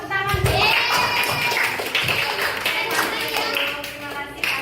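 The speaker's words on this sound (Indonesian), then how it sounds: "Kasih tepuk tangan." Children clap their hands in a classroom, a loud burst of mixed claps at the start settling into scattered clapping, heard close beneath overlapping children's and adults' voices.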